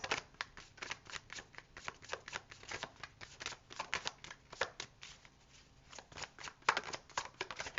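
Tarot cards being shuffled by hand, a quick run of soft crisp riffles and slaps that comes and goes, close and fairly quiet, with no talking.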